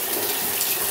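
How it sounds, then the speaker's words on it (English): Water flows steadily from adjustable body-spray jets in a zero-entry walk-in shower, making a brief, even hiss and splash close by. "As you can see how the water flows"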